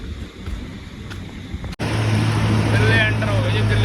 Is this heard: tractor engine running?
yes